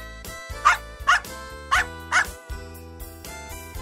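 A dog barks four times in a regular series, sharp and prominent, above a continuous musical backing.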